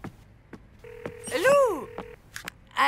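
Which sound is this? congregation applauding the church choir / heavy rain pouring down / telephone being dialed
telephone being dialed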